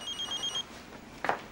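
A telephone rings faintly with a quick train of electronic pulses lasting under a second, then falls quiet apart from a brief soft noise.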